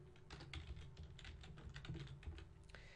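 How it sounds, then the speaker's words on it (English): Close, quiet typing on a computer keyboard, a steady patter of rapid keystrokes entering a web address. "I type in the address I want to link to"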